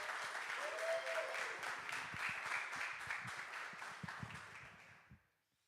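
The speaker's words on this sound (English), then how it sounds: "So round of applause for Andy." Audience applauds after a live music performance in a small venue, a steady round of clapping with some brief voices mixed in, thinning out and fading to silence at the end.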